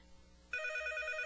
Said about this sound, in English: Don't answer the phone. Just don't answer the phone.